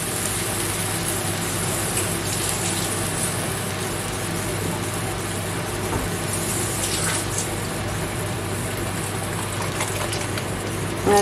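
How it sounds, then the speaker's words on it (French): Vegetables being rinsed under running water in a home kitchen, a steady, full rush of flowing water that continues unbroken throughout without any talk. "Je vais les rincer un peu avec de l'eau."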